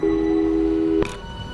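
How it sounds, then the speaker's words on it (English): Telephone call tones in the video game Portal 2, a loud, steady electronic ring tone that cuts off abruptly into a short click and a quieter hum. "let's give your parents a call right now"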